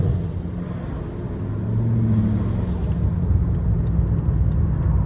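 A BMW F10 M5 engine fitted with a burble tune drones steadily from inside the cabin, a loud low rumble that swells slightly midway as the car downshifts, with no talking.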